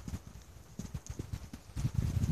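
A horse trots during a riding lesson, its steady, fairly quiet hoofbeats thudding in an even rhythm that grows a little heavier toward the end, with no voices.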